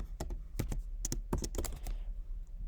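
Rapid, uneven keystrokes on a computer keyboard while writing program code, close and clear, in short bursts and then trailing off.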